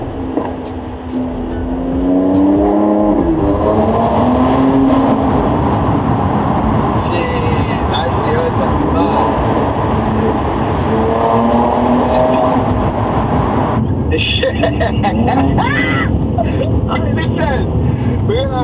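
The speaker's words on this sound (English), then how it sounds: "Put it in Sports Plus. We'll give it a little bit of a pull" A Mercedes C43 in Sports Plus mode accelerates hard on a London street, the engine note climbing and roaring loudly with gear changes, while voices talk over it.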